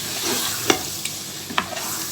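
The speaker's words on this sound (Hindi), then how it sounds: "अब इसको 1 मिनट इसी में भूनेंगे" Chopped garlic and ginger fry in a pan for a turnip and mutton curry, giving a steady close sizzle broken by a few sharp stirring clinks and scrapes.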